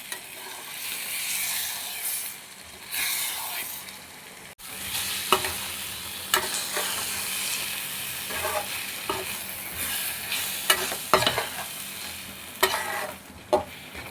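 Spatula scraping and stirring a sizzling mix of eggs and mutton brain kheema in a pan, a continuous hiss broken by repeated sharp scrapes and knocks at an irregular rhythm, close and loud, with no talk.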